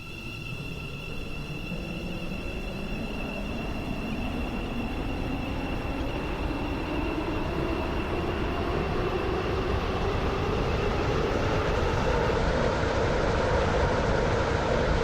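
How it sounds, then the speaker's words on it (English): A Roblox Stepford County Railway train runs steadily, its motor whine rising slowly in pitch over a continuous rumble of wheels, loud and close throughout with no talk. "Please mind the gap between the train and the platform."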